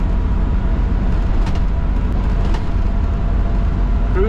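A Bounder motorhome rolls along a highway with steady low road and engine rumble, a continuous drone throughout, with no talking.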